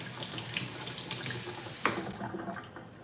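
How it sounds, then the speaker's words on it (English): Kitchen tap running steadily over vegetables being rinsed for a stir-fry, a continuous close splashing hiss that thins out toward the end, no voices. "I'll just rinse the veggies."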